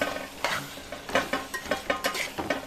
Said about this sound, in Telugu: కారం అంతా మటన్ పట్టేంతవరకు కలుపుతున్నాను